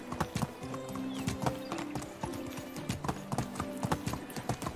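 In the medieval life-sim game Medieval Dynasty, horses and foals trot with a busy, uneven clip-clop of hooves, punctuated by whinnies over soft in-game music.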